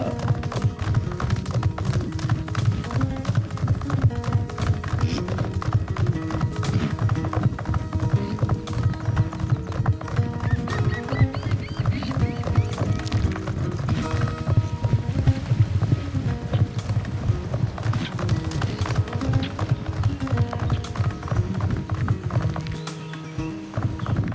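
Hoofbeats of a horse galloping in the video game Star Stable Online, a fast, steady clip-clop over layered game music, with an occasional whinny.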